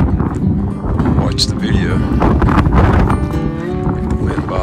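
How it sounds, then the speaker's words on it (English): Outdoor wind buffets the microphone in rough, rumbling gusts that continue throughout while people talk over it. "The wind bothers you that much."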